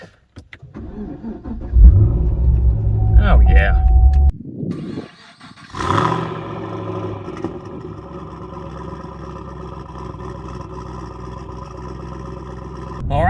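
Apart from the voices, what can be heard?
car engine cold start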